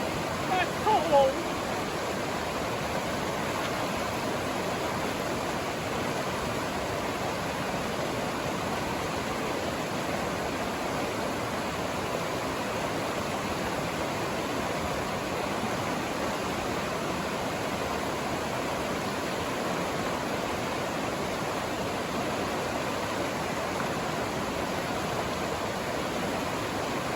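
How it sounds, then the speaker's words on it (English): A creek at a wilderness trail crossing on the Chewuch River in the Pasayten Wilderness rushes in a steady, unbroken wash of water noise, close and constant, with a faint brief voice at the very start. "Should show this is right next to the creek crossing, which we just finished crossing."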